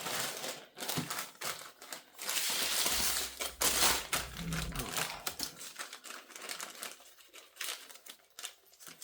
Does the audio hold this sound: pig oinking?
no